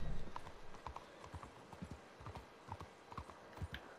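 Horses at a stable in a video game, with steady overlapping hoof clip-clops on hard ground, close and moderately loud, continuing throughout with no talk.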